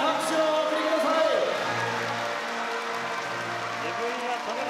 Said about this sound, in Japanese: 皆様どうぞ盛大な拍手をお送りください。